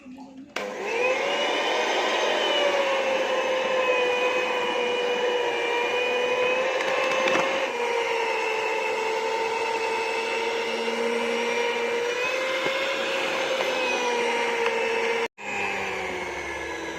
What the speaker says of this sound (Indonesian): Jadi tekniknya jangan sekaligus kita mixer, pelan-pelan saja agar mixer kita tidak rusak.